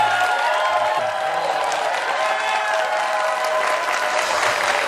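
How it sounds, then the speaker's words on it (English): A studio audience gives a TV talk show guest a full, steady round of clapping that stays loud and even throughout, dense and unbroken from start to finish. "Give this brother a round of applause."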